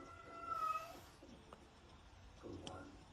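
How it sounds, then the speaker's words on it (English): A faint cat meows briefly in the background, with a second softer call later, under low room noise. "I got the cats in the back meowing too."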